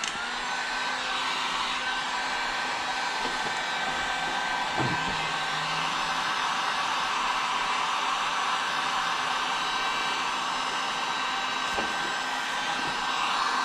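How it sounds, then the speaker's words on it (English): A heat gun blows steadily to soften and loosen stubborn vinyl covering during an LTZ250 front wheel bearing job, a continuous loud whooshing roar with faint clicks and handling sounds, no talking. "The heat gun really does work though. Loosens it right up."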